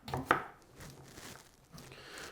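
A knife cuts waxy potatoes with one sharp chop near the start, followed by quieter scraping and cutting sounds in a kitchen lesson, close by and fairly faint.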